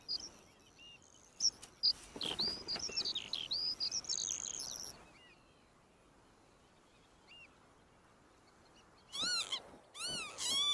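Wild birds call near grassland where lapwings nest on the ground in Scotland's Western Isles, with bursts of high chirping and whistling notes early on, a quiet gap, then more clear calls close by at the end.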